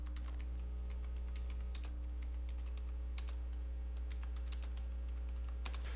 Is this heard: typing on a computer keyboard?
yes